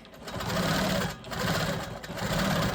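A sewing machine runs steadily, close and fairly loud, quilting curved lines across fabric panels for a custom bag, with slight dips in speed as it stitches.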